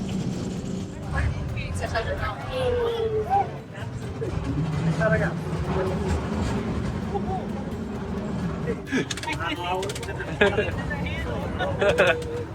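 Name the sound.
riding a San Francisco cable car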